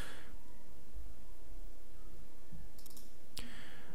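A couple of sharp computer mouse clicks over a steady low hum, sounding close and isolated, with one crisp click near the end.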